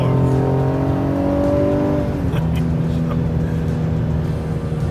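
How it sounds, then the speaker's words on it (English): A Ford Explorer ST engine revs high and climbs in pitch, drops briefly as it shifts, then pulls up again, loud and close. "You can hear the high RPMs and revs because of the more direct shifting"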